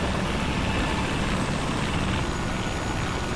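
Helicopter in a FlightGear flight simulator passing overhead, a loud steady broadband roar of rotor and engine that holds close and constant throughout, with no talk.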